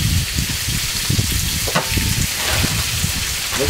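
Chicken stir fry sizzles steadily in hot oil in a pan, a dense continuous crackle with scattered louder pops and stirring scrapes, close and fairly loud.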